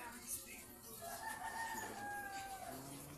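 A rooster crows once across the middle of the clip, drawn out and somewhat distant, over a steady background din with faint clucking from nearby chickens.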